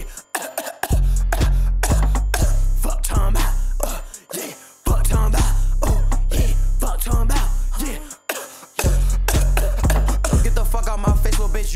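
Repeated coughing set into a loud hip-hop beat, the harsh bursts falling rhythmically in quick clusters broken by short pauses.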